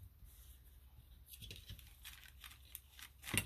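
Paper being folded over by hand while assembling a nature-themed junk journal from index-card ephemera, a soft rustle and crinkle that builds to a brief sharper crease near the end, close and quiet with no talking.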